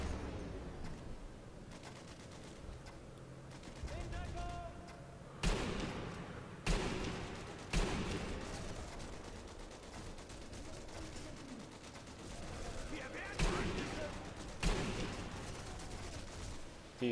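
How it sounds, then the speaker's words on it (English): Turret gunfire rattles in repeated loud bursts during a Sniper Elite V2 firefight, with sustained runs of shots separated by short pauses against a faint ambient background. "He was just lighting them up with that turret"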